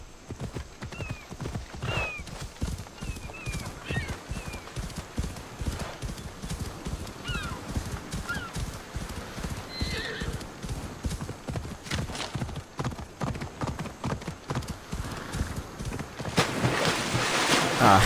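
A horse gallops into water in Assassin's Creed Odyssey. Rapid, rhythmic hoofbeats drum steadily throughout, with a few whinnies along the way and a louder, noisier rush at the very end.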